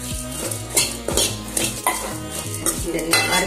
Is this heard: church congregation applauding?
no